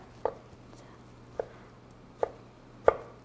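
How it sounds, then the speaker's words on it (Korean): Sparse knife chops on a cutting board while preparing ingredients for royal tteokbokki, four distinct thuds spaced about a second apart, quiet and close against a faint hum. "이렇게 썰어 주시면 돼요."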